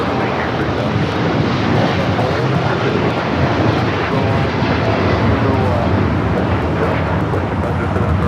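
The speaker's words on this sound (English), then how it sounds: "this is United Airlines 198 taking off to Shanghai on the 787-9 Dreamliner" United Airlines Boeing 787-9 Dreamliner taking off from Los Angeles for Shanghai, a loud, dense, continuous engine roar close by that stays broad and even throughout, with talk mixed in.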